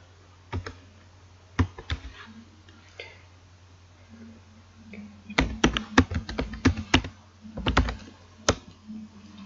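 Typing on a computer keyboard while coding in a Python shell, with scattered single keystrokes followed by a quicker burst of close, crisp clicks and a few more taps at the end.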